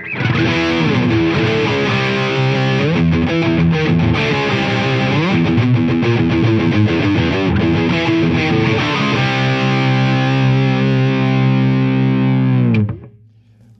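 Heavily distorted electric guitar through a Mesa Boogie Triaxis preamp plays chugging chords and bends with thick high-gain saturation, loud and continuous, ending on a held chord that stops suddenly.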